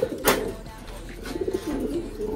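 Pigeons in a Filipino breeding loft, with eggs close to hatching, giving soft low coos and brief rustling movements, close and fairly quiet, one sharper burst near the start.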